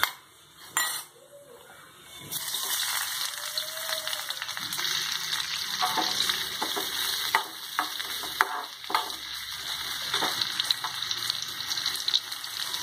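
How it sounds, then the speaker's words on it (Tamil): Onions sautéing in oil for tomato chutney, a loud continuous sizzle beginning after a short clatter, with repeated spoon stirs and scrapes against the pan, close by, a brief voice early. "இப்போ இதே எண்ணெயில் நம்ம வெங்காயத்தை வதக்கி எடுத்துக்கலாம்"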